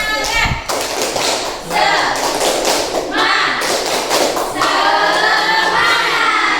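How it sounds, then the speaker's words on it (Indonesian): Schoolchildren in a classroom clapping together, with loud bursts of claps and thuds and excited children's voices mixed in throughout. "Selamat dulu yuk. Tepuk tangan."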